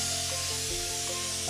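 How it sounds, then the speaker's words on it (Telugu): A pressure cooker on a stove lets off steam through its whistle while cooking country chicken kurma, a loud, steady hiss filling the whole short stretch with a dense, continuous rush. "కుక్కర్కి 6 విజిల్ వచ్చేసాయి."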